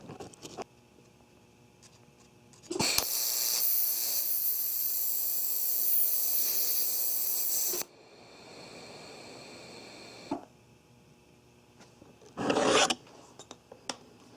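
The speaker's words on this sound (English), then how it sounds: "we'll drop the hood and put the heat on this thing and get ourselves a little fill rod here" A welding torch puts heat into a butt joint on steel rolling ball sculpture track with fill rod, a loud steady hiss lasting about five seconds, then quieter crackling and a short second burst.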